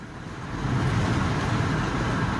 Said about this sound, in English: I mean, look, there's actual traffic here.